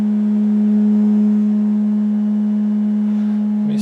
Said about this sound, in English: I'm getting a good sine wave out of the left channel.